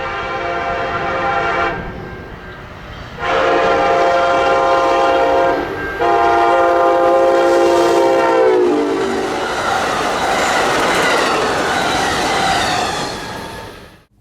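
An Amtrak passenger train passes at a busy rail junction in Gary, sounding loud, sustained multi-note horn blasts before its heavy rumble and rolling wheel noise fill the rest of the passage up close.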